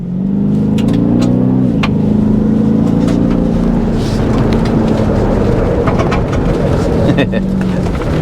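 A 2024 Ford Raptor R accelerating hard off-road on dusty ground; loud, close engine roar with a rising then settling tone, continuous for the whole stretch with no pauses.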